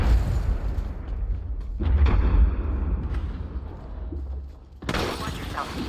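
A frag grenade explosion in the battle royale game Apex Legends, a heavy low boom and rumble that swells near the two-second mark and decays, followed by a sharp burst of noisy game sound near the end.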